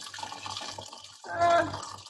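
Water pours into a cooking pot while soup is being made, a splashing, gurgling burst in the middle of the stretch, with a person talking before and after.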